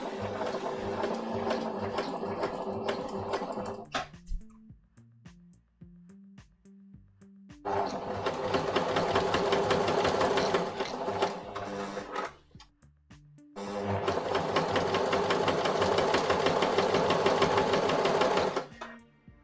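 A sewing machine stitches fabric, loud and close, running in three sustained bursts of steady mechanical whirring separated by short quiet pauses.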